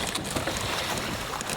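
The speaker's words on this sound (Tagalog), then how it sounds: "Kalakas ang hangin." Strong wind blows across the microphone on a small fishing boat at sea, a steady broadband rush of gusts and water noise that fills the whole moment without any talk.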